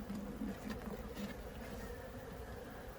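A swarm of honeybees drones around an open hive box while new bees are being shaken and brushed inside, a faint, steady buzz with a low hum throughout.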